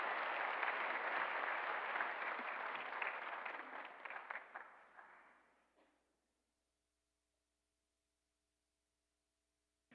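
Congregation applauding during a Korean church Sunday service, a broad wash of many hands clapping that tapers off and stops about six seconds in, leaving near silence.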